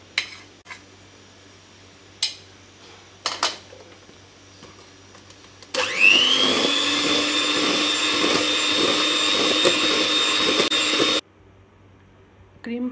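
An electric beater whips cream with icing sugar for a black forest cake, a loud, steady motor whine with a rising pitch that starts abruptly and runs about five seconds, then cuts off. A few quiet clinks come before it.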